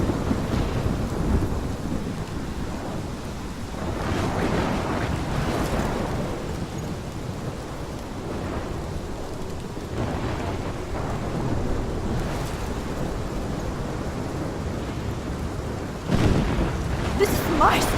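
Thunderstorm in the game Life Is Strange, steady heavy rain with low rolling thunder rumbling beneath it throughout, and a sharper crack near the end, with no talking.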